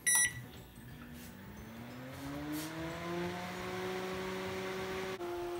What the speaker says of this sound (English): Just heard the magnetron kick in.